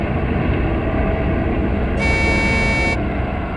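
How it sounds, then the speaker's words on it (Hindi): A truck horn in a forest sounds one sustained honk of about a second over a constant engine rumble, with no voices. "हॉर्न भी बजा रहा है।"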